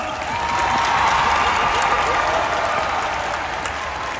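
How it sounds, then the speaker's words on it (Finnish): A loud crowd at a Finnish YouTube Allstar 2025 victory celebration gives a winner sustained applause, dense clapping swelling quickly and holding steady with a faint undertone of cheering. "Annetaan aplodit, Ella!"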